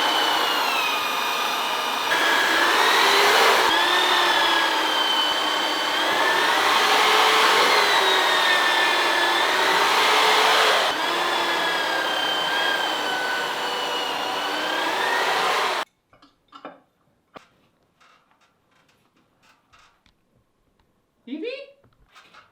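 A power drill bores pre-drilling holes for big screws into 200-year-old wood beams, its loud whine rising and falling over about fifteen seconds before cutting off, followed by faint handling noises and brief voices.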